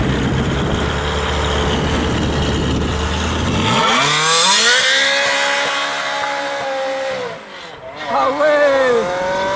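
Ferrari 360 Modena pulling away from a car meet, its engine revving hard with rising harmonic sweeps through the gears, loud and close after a noisy crowd start, with excited voices over it.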